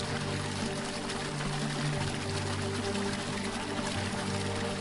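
Water from a sacred spring well pours in a steady, full rush, loud and close, with continuous splashing and no voices.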